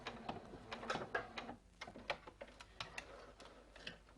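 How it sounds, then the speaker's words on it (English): A sewing machine doing a reverse stitch on fabric, a quiet, quick run of ticking needle strokes with a short pause partway through, heard close up. "you're going to do another reverse stitch"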